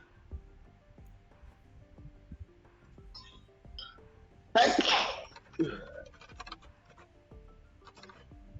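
A single sharp sneeze bursts out close by in a quiet room with faint ticking and rustling around it, followed by a short trailing breath.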